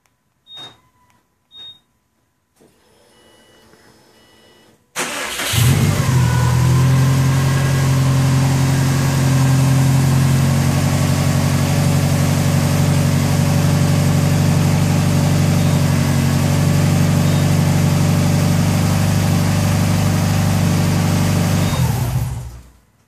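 A Subaru engine starts by OEM RS-4LX remote start: a few short chirps and clicks, then the engine cranks, catches loudly and settles into a steady close idle until it cuts off.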